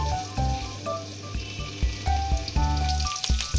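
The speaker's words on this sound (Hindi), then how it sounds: "ये देखिए मैं जीरा और सूखा प्याज की मिक्स करके मैंने ये में डाल दी।" Cumin and dried onion frying in hot oil until golden, a steady close sizzle with occasional soft clinks and stirring sounds throughout.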